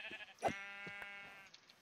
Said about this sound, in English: Oh, some sheep over here, perfect.